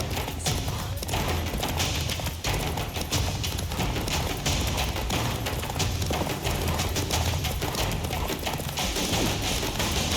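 Hooves of the horse Roach galloping in The Witcher 3, a dense, loud, continuous pounding mixed with heavy ambient rumble from start to finish.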